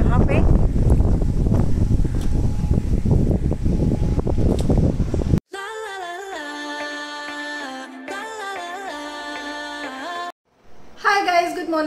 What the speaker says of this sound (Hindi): बहुत ठंडी हवा चल रही है ना